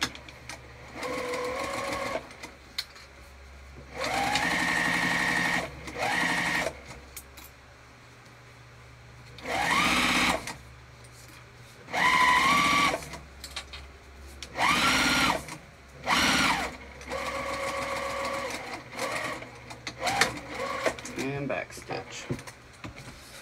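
A sewing machine stitches through vinyl for a crossbody bag, running in several distinct bursts with short pauses between them, loud and close, with brief speech in the gaps.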